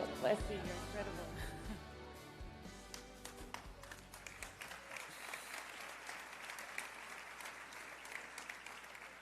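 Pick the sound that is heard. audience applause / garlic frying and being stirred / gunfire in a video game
audience applause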